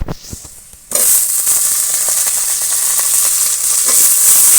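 Potato and eggplant pieces hit a hot pan of oil with onions and burst into loud, continuous frying sizzle and crackle, close and dense after a brief quieter start.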